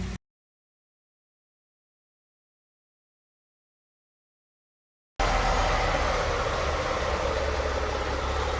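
A truck pulling away, its engine rumbling low and steady at close range after a stretch of dead silence, no voices over it.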